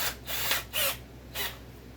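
A worn electric drill fitted with a wood bit, its bit wrapped in electrical tape, makes about three short whirring bursts separated by brief pauses, up close with nobody talking.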